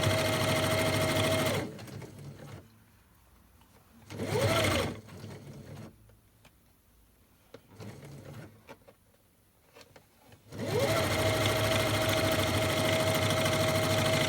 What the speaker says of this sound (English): you're going to sew across the end